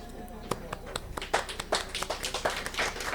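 Someone claps for themself in a short burst of light, uneven hand claps mixed with taps, heard close and under ongoing casual conversation.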